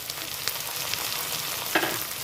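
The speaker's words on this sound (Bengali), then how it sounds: "এবার পেস্ট করে রাখা জিরে কাঁচা লঙ্কাটা অ্যাড করে দিচ্ছি।" Ground cumin and green chilli paste frying in a pan for a fish curry, a constant hissing sizzle with a brief sharper spatter as the paste hits the hot oil.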